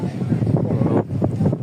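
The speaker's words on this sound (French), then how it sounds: "Il y a du vent encore." Wind outdoors on a misty pilgrimage trail, rumbling and buffeting against the microphone in steady low gusts, close and fairly loud throughout.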